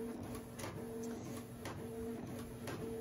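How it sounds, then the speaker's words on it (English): An inkjet printer prints a photo in a steady mechanical whir, with regular clicks and faint chirps repeating at a close, even level. "so it's printing"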